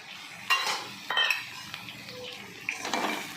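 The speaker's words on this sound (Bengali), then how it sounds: "দিয়ে একটু মিশিয়ে নিচ্ছি" Kochu shak (taro leaves) cooked with poppy seeds being stirred in a pan, with lemon juice and raw oil just added; a few clinking utensil scrapes and stirs against the pan, faint and close, with no talking.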